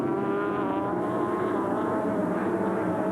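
Touring race cars in the 1993 Australian Touring Car Championship at Lakeside sweep through the carousel, a loud, continuous engine roar with overlapping high revving, sustained and near throughout.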